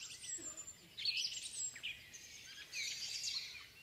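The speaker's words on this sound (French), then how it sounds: "et les oiseaux chantent un chant de bienvenue." Several birds chirp and sing in bright, high twittering phrases, moderately near and fairly quiet, alone over a soft background.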